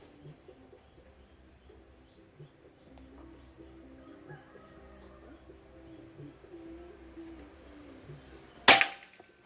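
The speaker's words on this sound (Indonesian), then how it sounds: "Tembakan ke dua." A Bocap Pajero Gun Gen 5 PCP air rifle, full CNC, fires a single sharp, loud shot near the end, heard outdoors over a quiet background with faint birds and ambient noise.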